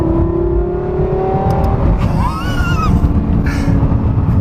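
A Lexus LFA's V12 engine revs hard and loud, its pitch climbing and falling in sharp sweeps over a steady roaring drone, close by and continuous.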